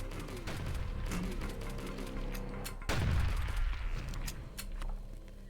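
Pistol shots ring out in the video game HROT, a rapid string of sharp cracks with one heavier boom, mixed with game ambience at moderate volume.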